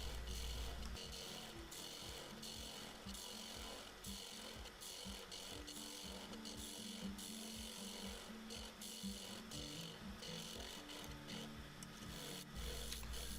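A lathe gouge takes shallow cuts rhythmically against spinning pecan wood, removing the nub of a bowl, a rasping, repeated cutting sound over a low motor hum.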